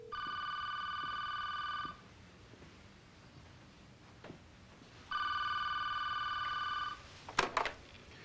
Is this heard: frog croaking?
no